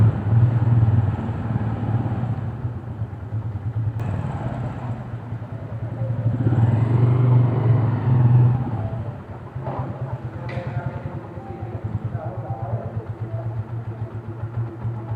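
A Honda TMX 155 motorcycle engine idles steadily nearby after a tachometer has been fitted, with a low chugging rumble and a couple of brief swells in revs.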